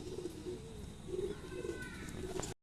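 A white pet pigeon coos softly in a few low, repeated murmurs, faint against a quiet room hiss.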